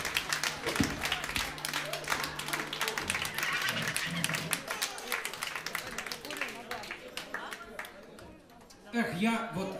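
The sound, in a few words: applause at a birthday concert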